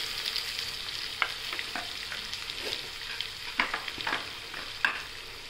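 Tomatoes, carrots and potatoes sauté in a pan with a steady sizzle, punctuated by several sharp spoon scrapes and taps from stirring, close by with no talk.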